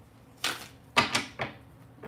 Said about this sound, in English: I'm just gonna get started shuffling the cards